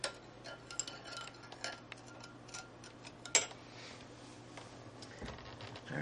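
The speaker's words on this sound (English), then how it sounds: "I've got some melted butter. I'm going to stir in some garlic powder" A spoon stirring garlic powder into melted butter in a small dish, light irregular clinks and taps against the container, close and fairly quiet, with one sharper knock midway.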